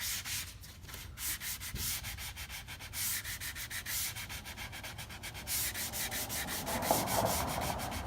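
Sandpaper of 280 grit rubs rapidly back and forth on a cherry wood edge in quick, steady strokes, close up and fairly quiet, with no voices.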